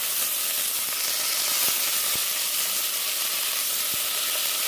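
Quinoa toasts in a hot pan with a loud, dense, continuous sizzling hiss up close, broken by a few faint clicks, with no talking.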